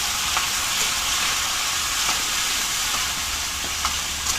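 Tomatoes sautéing in a pan in a home dirty kitchen, a steady loud hiss and sizzle that runs on without a break, with an occasional faint click of a utensil.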